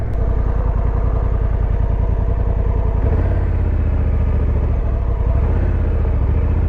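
A 2024 Honda Africa Twin adventure motorcycle riding along, its engine a loud, steady, close throbbing drone with a rhythmic pulse that shifts slightly partway through, heard alone without talk.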